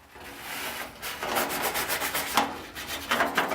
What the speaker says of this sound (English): I just scrubbed it with a stiff plastic brush